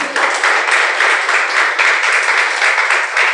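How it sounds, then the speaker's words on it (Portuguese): A church congregation applauding after the preacher's call, steady dense clapping with a rhythmic pulse for a few seconds, no voices over it. "Você pode aplaudir a ele."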